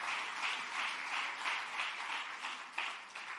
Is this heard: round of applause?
yes